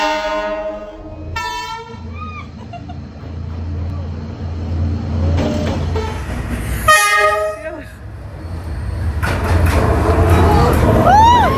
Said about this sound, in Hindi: यहाँ भी ट्रेन लोगों के घरों को लगभग छू कर ही निकलती है।